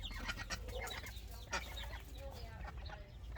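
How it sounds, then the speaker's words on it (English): A broody duck clucks and murmurs near the microphone in a backyard poultry area with chickens, its low chatter continuous over a rumbling background, with a few sharper calls. "That is our broody duck, Millie, and right there is her nest."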